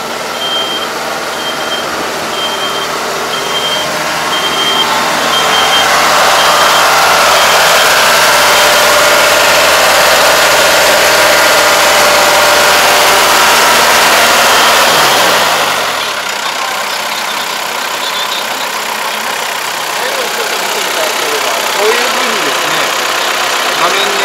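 A tractor at an agricultural machinery demonstration reverses with a steady engine drone and an intermittent beep early on, then the engine settles to a lower idle. A voice talks over it.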